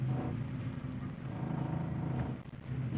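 A Toyota Kijang Super carburetted engine idling low and steady as the clutch is eased out in first gear, a close rumbling hum with a slight dip in load.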